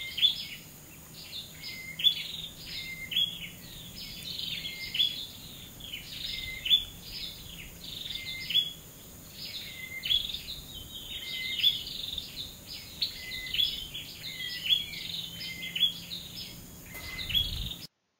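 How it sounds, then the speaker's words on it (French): Many birds chirp and trill in a Malaysian mangrove, a busy, overlapping chorus of high calls, steady throughout over a faint low background hum. "nous allons en Malaisie, dans les mangroves, pour écouter les oiseaux chanter."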